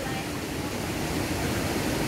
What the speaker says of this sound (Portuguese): Alguém teve a ótima ideia de colocar um cano e fizeram uma bica d'água.